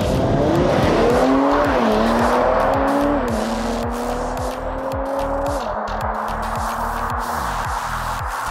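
An Audi A7 stage 1 and a rival car launch side by side in a drag race, engines roaring loud and close as revs climb through several gear changes, with tire squeal at the start.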